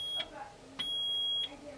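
A multimeter beeping during a continuity test across circuit board pads, two steady high tones, a short one followed by a longer one, quiet and close.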